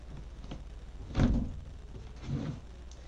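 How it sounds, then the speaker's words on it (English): A door is pushed shut twice indoors, one fairly loud thud followed about a second later by a softer second knock against a quiet room. "why won't the stupid door just slam?"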